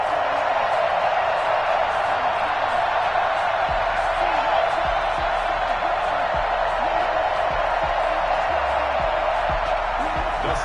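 A virtual stadium crowd in the Madden 21 football video game keeps up a steady, loud roar and cheer at a Washington home game against the San Francisco 49ers, with a commentator talking over it throughout.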